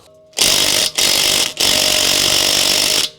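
A DeWalt power tool loosens car suspension bolts on a Toyota Altezza, buzzing loudly and close in three hard bursts separated by brief gaps, with no voices.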